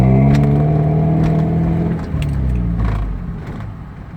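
A Mazda Miata MX-5 climbs a steep hill in first gear, its engine humming in a close, steady drone with strong low harmonics that ease off slightly partway through, with faint clicks above.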